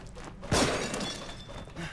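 A statue is shot off a raven's back in The Evil Within and shatters with one sharp crashing break, followed by a brief scattering tail of debris.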